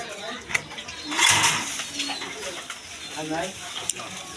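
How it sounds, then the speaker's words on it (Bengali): Large high-flying pigeons coo softly in short repeated calls at close range, mixed with someone talking and occasional bumps and rustles. "দেখেন একদম বিগ সাইজের কবুতর দেখেন"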